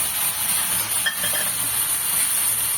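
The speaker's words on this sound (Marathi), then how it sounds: "त्याच्यामध्ये मी आता आलं लसूण आणि मिरचीची पेस्ट घालणार आहे" Ginger, garlic and green chili paste sizzles steadily with onions in a hot pan while being stirred, with a continuous close frying hiss and faint occasional clinks of a utensil.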